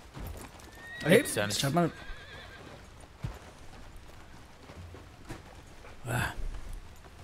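A horse in the video game Red Dead Redemption 2 whinnies loudly with clip-clopping hooves, followed later by a shorter neigh, while people talk casually over the game sounds.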